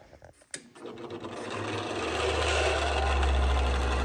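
An electric motor on a media blast cabinet spins up and settles into a steady, loud whirring hum after a few clicks and rustles, running continuously close by.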